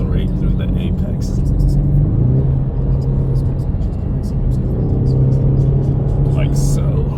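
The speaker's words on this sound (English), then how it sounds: "then you can just accelerate through the apex" A 2024 Ford Mustang convertible drives at night with a steady low engine rumble that rises slightly as it accelerates through a curve, heard from inside the car under continuous talking.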